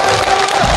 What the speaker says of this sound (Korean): 저 두 사람과 박수 치시오.